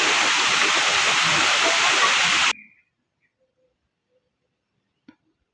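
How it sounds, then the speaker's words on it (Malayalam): Strong, cold water rushing down a mountain stream or waterfall, a loud, steady roar for about two and a half seconds that cuts off abruptly into near silence. "വെള്ളത്തിൻ്റെ നല്ല ഇരമ്പക്കം കേൾക്കുന്നുണ്ട്"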